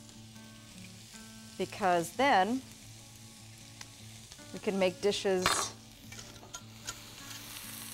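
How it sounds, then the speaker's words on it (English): Shallots sizzling in a pan in a home kitchen, a steady close crackle and hiss that runs throughout beneath a speaking voice. "And shallots do cook up pretty quickly."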